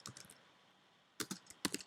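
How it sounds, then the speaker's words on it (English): Two short bursts of quick clicking keystrokes on a computer keyboard, near and fairly quiet, separated by a brief pause with no talking. "So I will type his name, so Harold"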